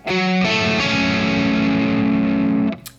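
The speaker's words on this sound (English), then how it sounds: "that is again just a minor chord in a closed voicing" A single distorted electric guitar minor chord is struck and left ringing for a few seconds, loud and thick, then muted with a brief scrape.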